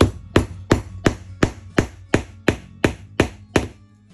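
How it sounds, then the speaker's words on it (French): A hammer gives eleven small, even taps in a steady rhythm, setting a rivet in leather with a setting tool. Each strike is close and sharp, and nothing else is heard. "Posez-la par-dessus, puis effectuez de petites frappes successives."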